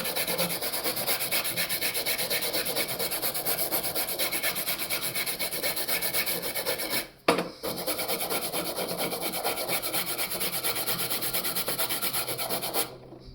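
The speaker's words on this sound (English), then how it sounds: "you can just take a wire brush" Steady, continuous scratchy brushing of wire brush bristles rasping against a metal file, with one short pause partway through before the rough scrubbing resumes.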